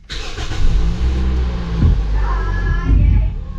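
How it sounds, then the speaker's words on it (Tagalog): A car engine cranks and fires up after a fresh battery is fitted, catching quickly into a loud, steady idle with slight revving, close and clear with no talking. "napaandar na natin ang ating kotse"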